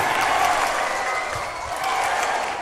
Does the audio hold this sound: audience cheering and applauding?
yes